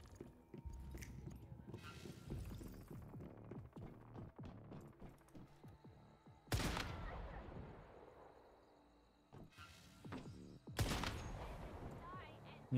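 Gunshots in the Once Human game, sharp cracks and bursts scattered through the stretch, including a few loud heavy blasts, with speech and a background hum around them.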